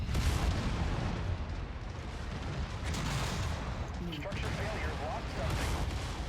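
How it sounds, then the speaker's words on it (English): Rumbling gunfire and booms in a mercenary combat game as an autocannon is knocked out, a dense, heavy barrage of explosive thuds under a person talking. "I'm guessing that's our autocannon going bye-bye."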